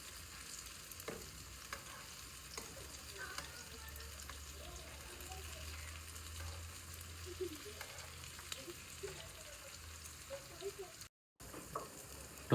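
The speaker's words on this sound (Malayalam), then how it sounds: "ഇതുപോലെ തന്നെ നമുക്ക് അടുത്ത വശവും ഫ്രൈ ചെയ്തിട്ട് എടുക്കാം." Tomato slices fry in a pan for a Kerala tea-stall tomato fry, a soft, steady sizzle running alone throughout with a few faint taps, fairly quiet and close.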